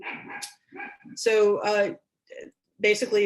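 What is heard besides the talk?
dog barking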